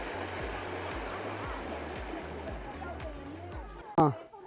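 A voice-activated fountain jet in Deyang shoots water upward with a steady rushing spray, while background voices murmur throughout and a sharp loud burst of sound comes near the end.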